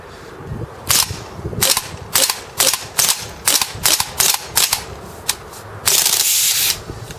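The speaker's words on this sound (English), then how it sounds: "Just going to be doing a little bit of dry firing" Marushin M2 Carbine airsoft rifle dry firing with no BBs loaded, a series of sharp mechanical clacks spaced roughly every half second, ending in a longer burst of rapid clicking, close and clear with no talk.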